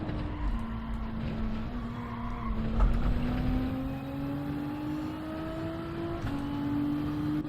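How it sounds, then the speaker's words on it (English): A race car in a racing video game sliding sideways through turn 1, engine note droning and slowly rising while tyres squeal and skid, with a short louder scrub partway through. "Going sideways at turn 1, that is not how I like to go racing."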